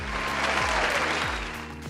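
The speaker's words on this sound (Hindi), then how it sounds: "एक बार विक्की के लिए भी ज़ोरदार तालियां।" Steady, dense applause from a crowd fills the whole stretch at an even level, with no one speaking over it.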